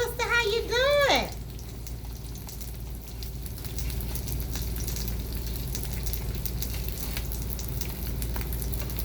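Salmon patties frying in a pan give a steady, moderately loud sizzle that runs almost throughout, opening with a brief high-pitched chirping sound.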